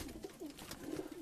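A pigeon coos softly and close by in a loft, a few low, throaty rolling notes in quick succession with no talking.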